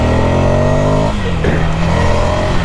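A 2017 Ducati Scrambler motorcycle accelerates hard in cold weather, a loud, close engine note climbing in pitch, then a gear change and a renewed surge as it pulls.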